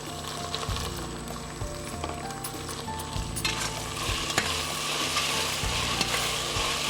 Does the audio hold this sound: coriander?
yes